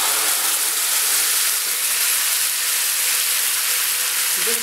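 Chicken pieces fry in oil for a traditional Moroccan tagine with parsley and eggs, giving a steady, loud, dense sizzle without pause.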